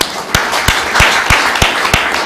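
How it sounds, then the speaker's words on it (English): An audience claps together in a room at a social business design lab gathering, a steady wash of many hands with sharper individual claps standing out, loud and close throughout. "Let's give a big applause for everybody who is here"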